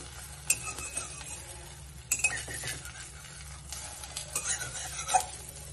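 An omelet with chopped coriander is folded in a hot pan under a soft sizzle, with a few sharp clinks and scrapes of a utensil against the pan and no talking.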